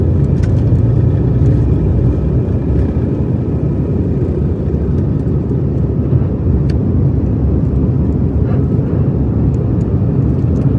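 Steady, loud low rumble of airplane engines as a domestic flight gets underway, continuous throughout with a broadband roar heard from inside the cabin and no speech.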